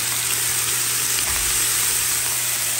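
Fish fries in a pan with mixed vegetables, including eggplant and beans, on a stove in a garage. The hot oil gives a loud, continuous, even sizzle close by, with no talking.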